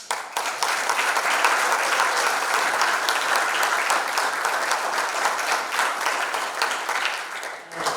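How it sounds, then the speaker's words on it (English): An audience at a city hall of fame induction ceremony gives a warm round of applause, dense continuous clapping that holds steady for several seconds and then tapers off. "Let's give her a round."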